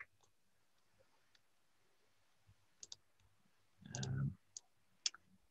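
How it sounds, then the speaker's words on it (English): Faint, sparse clicks of a computer mouse in a quiet room, a few single and double taps spread out, with one longer muffled rustle in the middle. "I'll click on that now"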